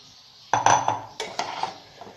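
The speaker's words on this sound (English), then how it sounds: "Mix this also nicely with the sauces until all the sauce and spices and the veggies get well mixed with the noodles." A utensil clanks and scrapes against a metal pan or wok while chilli garlic noodles are tossed with sauces, spices and vegetables, a few sharp close knocks followed by softer scraping.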